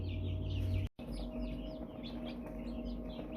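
Newly hatched hybrid chicks, half American Bresse and half Chanticleer, peep repeatedly in a rapid overlapping chorus of high chirps over a steady mechanical hum, close by, briefly cut off near the start.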